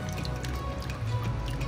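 Boiled vegetables for restaurant-style vegetable fried rice are lifted out of their cooking water in a kitchen, with close, continuous dripping and trickling as water runs off them back into the pot.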